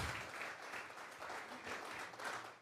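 Congregation at a Sunday church service clapping together in a steady, rolling wave of applause, soft and somewhat distant, pulsing gently over a few seconds.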